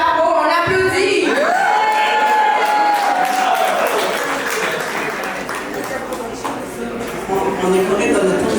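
Applause fills the room at a launch event for an ebony tarot deck, mixed with cheering, a rising whoop and overlapping voices from a lively crowd.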